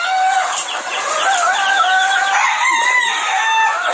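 Chickens on a farm, including hens and a rooster, give off a dense, close, continuous chorus of clucks and warbling calls, with some birds overlapping one another.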